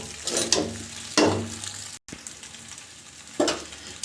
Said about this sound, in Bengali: মোটামুটি আমি নেড়ে ঘেঁটে নিয়েছি